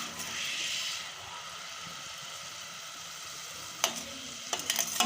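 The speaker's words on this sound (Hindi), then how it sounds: "ताकि मसाला अच्छे तरीके से फ्राई हो जाए हमारा" Masala frying in a pan with a little water: a steady hissing sizzle, loudest at first then settling, broken near the end by a few sharp scraping stirs of a spoon against the pan.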